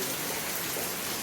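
Heavy rain pouring down in a Gujarati village, a dense, even hiss of falling water that holds steady and fairly soft throughout, with no one speaking.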